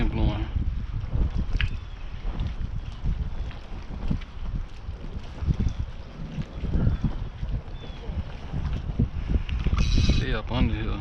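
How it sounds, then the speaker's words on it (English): Steady wind noise buffets the microphone at a fishing dock on open water, a broad continuous rush that swells louder near the end, with faint bits of background talk. "See that wind blowing."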